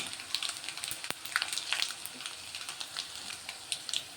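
Dried red chillies and fenugreek seeds frying in hot oil, a faint, steady crackling sizzle with scattered small pops and one sharp tap, no talking.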